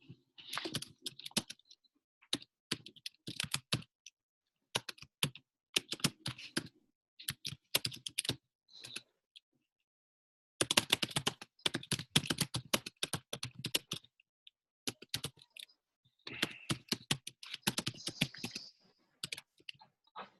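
A computer keyboard typed on in bursts of rapid clicky keystrokes, with brief pauses between runs and a longer gap around the middle. Close and fairly quiet, with no talk.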